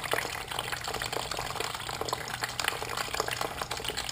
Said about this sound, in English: Now I wait, radiator cap, and just let it drain.